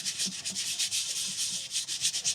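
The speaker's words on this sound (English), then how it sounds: "This is just a sealer I'm putting on" Sealer goes onto a turned firewood bowl with quick rhythmic rubbing strokes, a bright brushy hiss pulsing several times a second, close and alone.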